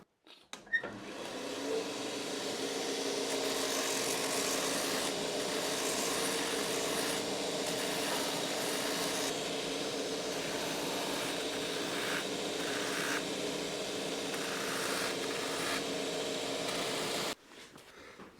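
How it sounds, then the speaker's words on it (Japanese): A finisher machine trims the edge of a shell cordovan loafer sole being prepared for Blake stitching. It makes a steady whirring, abrasive grind that runs continuously for about fifteen seconds and then stops abruptly. "その前にちょっとこのコバをフィニッシャーで整えます。"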